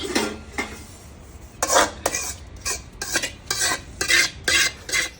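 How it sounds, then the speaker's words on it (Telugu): Cut raw mango pieces for Andhra avakaya pickle tossed with cumin, mustard and sesame powders, chili powder and salt, heard as rhythmic bursts of a spoon scraping and clattering in a metal vessel, close and intermittent. "జీలకర్ర పొడి, ఆవల పొడి, నువ్వుల పొడి, కారం, ఉప్పు వక్కలకు పట్టేటట్టు ఎంత మంచిగా కలిపితే అంత మంచిగా"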